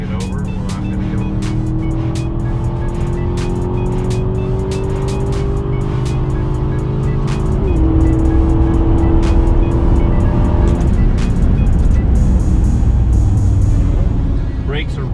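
An Aston Martin V8 drives on a road with a loud, continuous engine note close to the cabin, its revs climbing and then dropping, with tire and road noise beneath.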